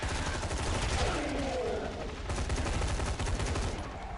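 Gunfire in the video game BlackFire, a dense, continuous rattle of rapid shots that stays loud throughout, as if from an automatic weapon during a match.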